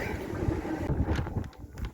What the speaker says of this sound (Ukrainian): Дивіться, який вітер.